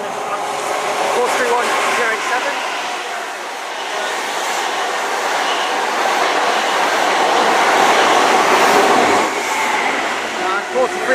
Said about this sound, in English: passing through now, we have a Great Western Railway service from Penzance to London Paddington